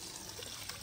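Water leaking and trickling from a household water tank after a botched repair, a steady faint splashing flow with no voices.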